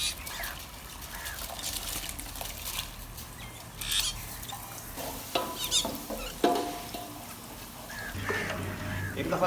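Soaked rice in a pot on a stove, stirred once with a utensil: faint scraping and soft sizzling bubbles up close, with intermittent clinks and short scrapes over a low background hum.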